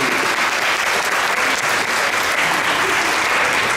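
Audience at a kindergarten graduation ceremony applauding steadily and loudly throughout, a dense wash of many hands clapping with no speech over it.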